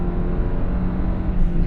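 A Nissan NV200 van with a 4-speed automatic revs hard while held in first gear, giving a steady, droning engine rumble that holds at a constant pitch for a moment.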